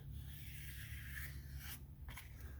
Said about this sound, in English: just hold the sanding block really flat